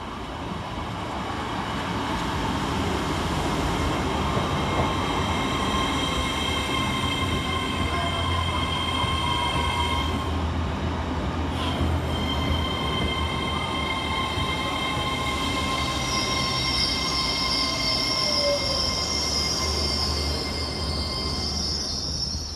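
A TransPennine Express Class 802 train pulls into Newton-le-Willows station on a Liverpool Lime Street to Newcastle service, a steady loud rumble of wheels and traction with high metallic squeals building near the end, no voices.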